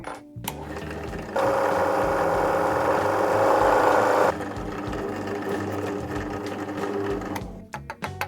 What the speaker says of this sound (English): cut a 20 millimeter hole with the Forstner bit